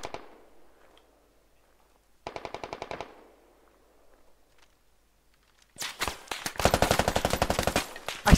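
Automatic gunfire in the military shooter Squad: a short rapid burst, a pause, then a loud sustained barrage of close shots with dense rattling reports.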